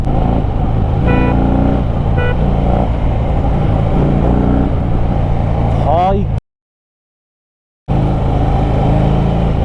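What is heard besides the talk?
Harley-Davidson Fat Bob 1800cc motorcycle riding through forest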